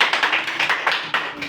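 A classroom of students claps together for classmates who scored well in a maths test, a brisk run of loud, rapid hand claps close by.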